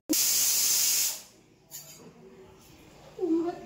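Pointed gourd in hot oil in a home kitchen gives a loud, harsh sizzling hiss for about a second, then cuts off to quiet kitchen background with faint brief sounds.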